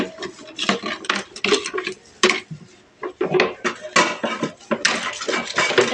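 Washing dishes by hand after lunch in a home kitchen: steel utensils clink, scrape and rub in irregular bursts with short pauses, close and moderately loud, no voices.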